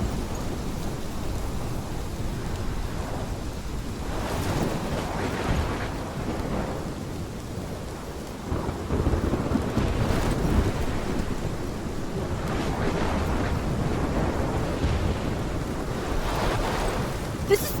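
Storm in the game Life is Strange: steady rain and rolling thunder with crashing waves, a dense continuous roar that swells in loud bursts throughout, with no talk.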